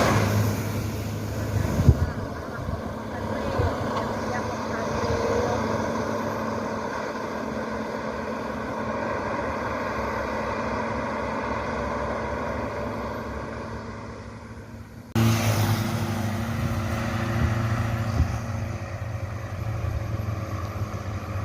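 A Honda Prima intercity bus travels on the road, its engine giving a continuous even drone and rumble with one sharp knock near the start and a sudden jump in loudness later on.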